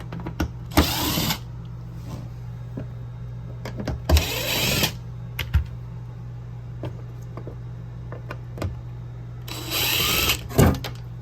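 A power screwdriver backs screws out under an RV bathroom sink, in three short whirring bursts separated by clicks and handling noise over a steady low hum.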